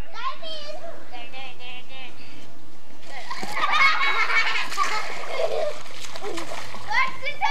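A child dives into a backyard swimming pool with a loud, broad splash and churning water, surrounded by children's voices talking and calling before and after.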